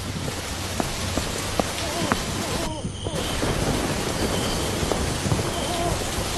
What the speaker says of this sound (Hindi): आसमान में जोर जोर से बिजली कड़कने लगी।